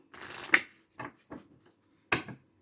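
Tarot cards being shuffled by hand, a riffling rustle followed by a few short slaps and flicks of the deck, close up and fairly quiet, with no talking.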